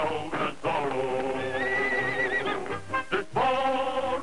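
A horse gives a loud, long whinny with a wavering high squeal in the middle, followed by snorts, in a 1950s Zorro TV commercial. A short neigh tails off at the end.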